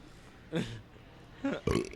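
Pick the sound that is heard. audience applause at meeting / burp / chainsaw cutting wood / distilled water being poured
burp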